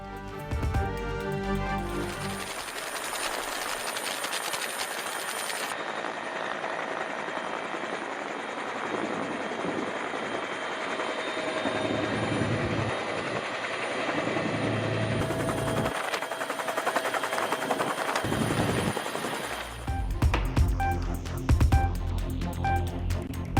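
A loud, steady helicopter rotor drone during a disaster rescue after heavy rain and landslides, with heavy engine noise throughout and a few shifts in intensity near the end.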